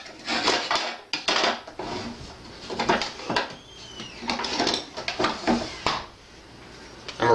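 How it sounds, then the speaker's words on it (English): A spoon scraping and clinking around a pot of melting chocolate, close and fairly loud, in irregular repeated strokes with brief gaps. "And then you're going to want to begin stirring it, like so"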